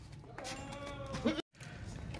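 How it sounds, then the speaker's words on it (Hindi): A goat at a livestock market gives a short nasal bleat close by, amid background chatter and someone talking. "ये बकरा देखें माशाल्लाह बहुत ज़बरदस्त बकरा है"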